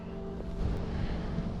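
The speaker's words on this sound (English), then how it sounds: "It is so windy." Strong gusts buffet the microphone on a windy day out perch fishing, a dense continuous low roar with no pauses.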